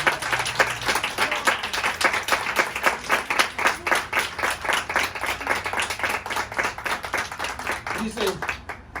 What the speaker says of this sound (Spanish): Y denle un aplauso a ese.